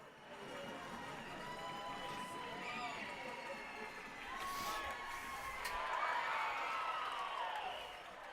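A baseball crowd cheers and shouts at a full count with two out, the noise swelling gradually and staying fairly distant and steady, with some whistles and calls rising above it.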